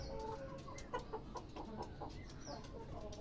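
Faint, soft clucking from a hen laying eggs, short repeated notes over a steady background hiss.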